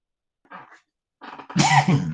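A person coughs in a dry room during a maths lesson recording, a couple of faint short coughs followed by a louder harsh cough up close.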